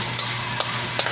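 Garlic frying in a pan for adobo sitaw with ground meat makes a brief, steady sizzle with a few soft clicks of stirring. No voices are heard.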